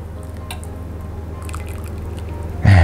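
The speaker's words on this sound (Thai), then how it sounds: "เราก็เติมน้ำซุปลงไปครับ" Soup broth poured over beef in a bowl at a Thai beef hotpot noodle shop, a short gurgling splash rising near the end over steady background kitchen hum.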